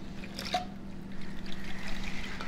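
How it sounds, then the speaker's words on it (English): Coffee poured into a cookie dough cake batter gives a soft, continuous liquid trickle and dribble lasting a couple of seconds, close and steady with a low background hum. "just pour it in last"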